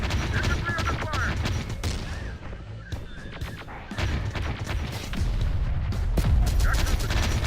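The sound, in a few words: gunfire in a video game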